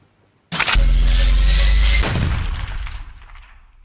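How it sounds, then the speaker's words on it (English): A single sharp gunshot sound effect played during a tabletop role-playing game, a sudden loud blast that rings out and decays over about two seconds. "That's when you hear the gunshot."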